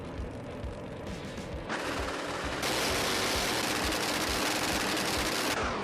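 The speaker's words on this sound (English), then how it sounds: "now with the addition of new engine sounds for some of the classes." A drag racing car engine in the video game Bounty Drag Racing drones steadily, then climbs in two sharp steps to a louder, harsher roar that holds before easing off slightly at the end.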